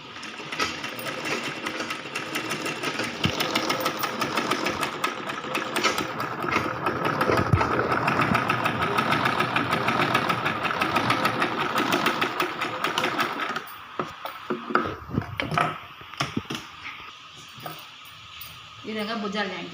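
Sewing machine stitching the shoulder seams of a one-year baby umbrella frock, a loud steady mechanical whir running for about thirteen seconds, then stopping, followed by fabric handling and someone talking.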